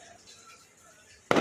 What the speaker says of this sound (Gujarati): ક્યાંક લગન છે એટલે અહીં ફટાકડા ફૂટે છે